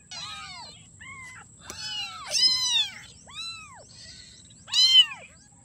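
Bottle-fed kittens meow close by in a string of about seven high, rising-and-falling cries, two of them louder and more insistent, over a quiet low hum.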